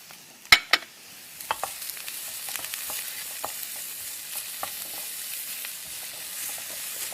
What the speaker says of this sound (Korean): 양파 볶아주다가 이제 당근 볶고요